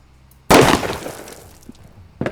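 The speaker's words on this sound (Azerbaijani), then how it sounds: "Sən atırsan gülləni." Gunfire and smashing glass in the Crime Simulator video game: one sudden loud crash with shattering glass that trails off into scattered debris, then a second sharp hit at the end.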